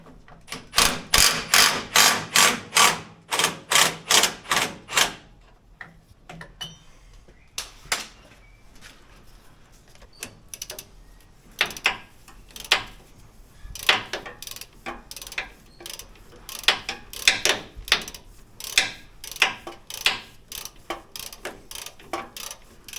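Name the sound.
ratchet with long extension on power steering bolt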